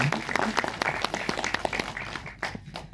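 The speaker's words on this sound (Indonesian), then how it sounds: "Kita kasih tepuk tangannya." An audience at a film screening and behind-the-scenes event for Buya Hamka gives scattered applause, individual claps distinct and uneven, thinning out toward the end with faint voices underneath.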